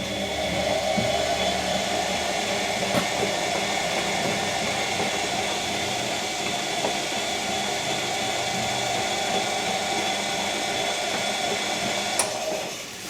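A Bosch Classic washing machine runs steadily after a motor repair, giving a continuous mechanical hum and whir with a couple of faint clicks, close and even throughout.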